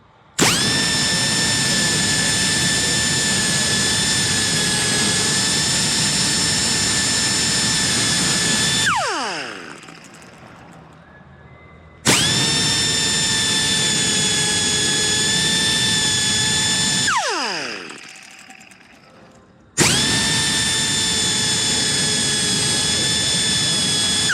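A grinder sharpening a chainsaw chain whines loudly and steadily in two long runs, each spinning down before the motor starts again, with no talk.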